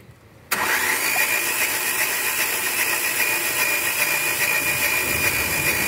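A 2021 Renault Logan three-cylinder engine, head removed after fuel trouble, cranks on the starter for a compression test: a brief quiet lead-in, then a steady, loud, continuous mechanical churn close by with no talking.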